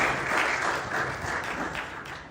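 An audience gives a round of applause at a debate event in Dubai, a dense, steady wash of clapping that holds throughout and fades slightly at the end.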